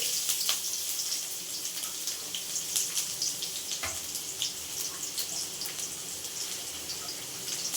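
Garlic dropped into hot oil for tempering while making Gobi Manchurian gives a steady bright sizzle and crackle that runs throughout, with small pops standing out here and there.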